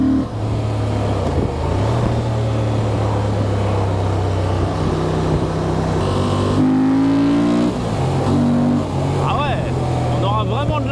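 A Honda Transalp 750 motorcycle engine hums and rises in pitch as it accelerates through gears on a ride, loud and steady, with a rider's voice speaking over it.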